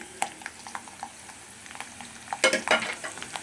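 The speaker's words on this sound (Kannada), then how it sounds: "ಅದೇ ಬಾಣಲೆಗೆ ಮತ್ತೆ ನೋಡಿ ಎಣ್ಣೆ ಹಂಗೆ ಉಳಿಸಿದ್ದೀನಿ ಅದಕ್ಕೆ ಈಗ ಬೆಳ್ಳುಳ್ಳಿನ ಒಂದು ರೌಂಡ್ ಹಾಕಿ ಬಿಸಿ ಮಾಡ್ಕೊಂಡು ತೆಕ್ಕೊಂಬಿಡ್ತೀನಿ" Garlic is stirred in warm oil in a pan, with soft scattered scrapes and light sizzling, then a louder flurry of stirring and crackle near the end.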